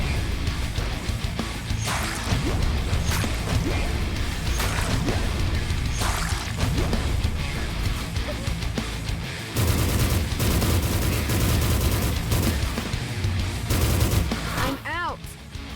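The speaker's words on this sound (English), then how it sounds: "My rocket launcher." A rocket launcher fires in the shooter Forgive Me Father amid dense, continuous gunfire and explosive bursts, loud and chaotic throughout, with a voice talking over the action.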